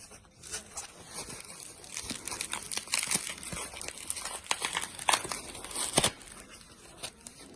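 A received parcel is unwrapped, with crinkling plastic and paper packaging rustling and tearing in irregular bursts, close and fairly quiet, with no talking.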